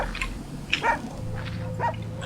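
Dog barks in a horror video game scene, İblis 3, a few short barks spaced across the moment, moderately close over a low ambient hum.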